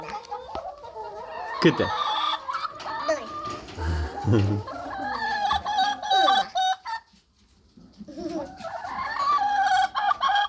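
Hens on a farm cluck and squawk close by in busy, overlapping bursts, with an adult and someone talking over them and a brief quiet gap near the end.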